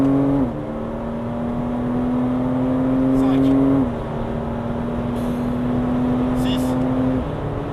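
A Porsche Cayman S engine on a track holds a steady, loud drone with shifting pitch as it accelerates, settling into a sustained high rev throughout.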